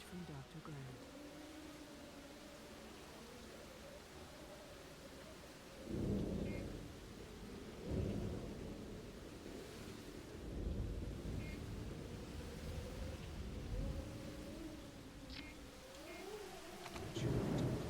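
Thunderstorm in the dinosaur park game Jurassic Park: Operation Genesis, with steady rain-like noise and several low rumbling thunder swells, accompanied by a droning game music tone.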